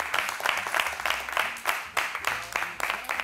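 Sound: audience applause

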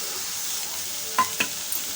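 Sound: green chilies and ginger stir-frying in a pan

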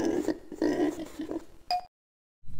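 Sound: pig oink sound from the Sesame Street Baby and Me video game

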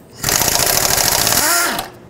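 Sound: removing intake manifold bolts on a Ford F-150 5.4L

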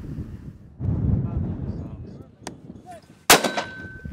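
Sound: 60mm M224 mortar firing

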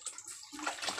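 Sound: water being poured into a container holding an eel

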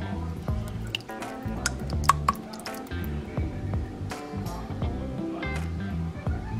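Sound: pasta sauce poured into pot

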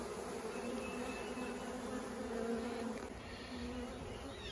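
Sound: honeybees buzzing

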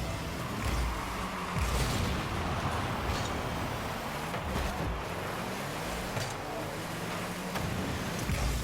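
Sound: car boosting in video game Rocket League

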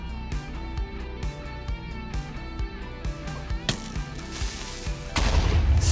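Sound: creeper explosion in Minecraft video game

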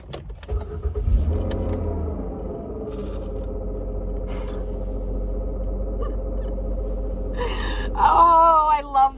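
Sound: car engine starting up

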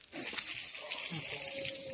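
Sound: water being poured

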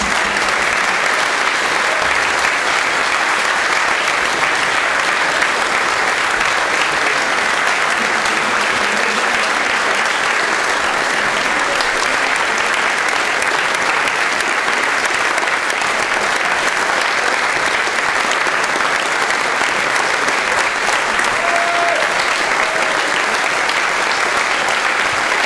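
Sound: audience applauding the conference volunteers

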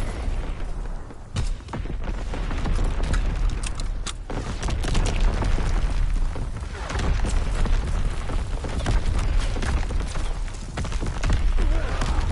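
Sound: primary battery guns firing, from a video game

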